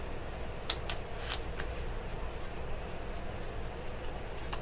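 Cards being handled and pushed into a slot where they keep sticking, heard as soft papery rustling and a few sharp little flicks and taps over a quiet background hum.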